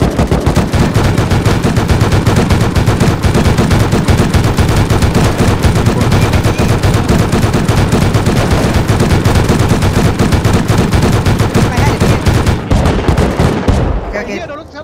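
Rapid, loud turret gunfire in a video game, a continuous machine-gun-like barrage of dense shots that runs nearly unbroken for about fourteen seconds before cutting off abruptly.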